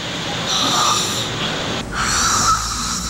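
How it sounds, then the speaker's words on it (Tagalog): A man with obstructive sleep apnea snores in deep sleep, giving loud, rasping breaths in two long swells, close and steady, with no talk. "sa lakas ng kanyang hilik"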